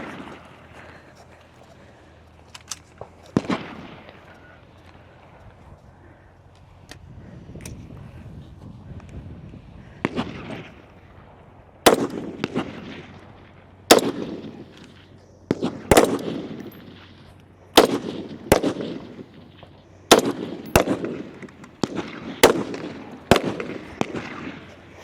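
Rifles fire at a firing line during a women's elite competition stage at a regional event, with sharp loud shots at irregular intervals, some in quick pairs, each ringing out and echoing over faint background murmur.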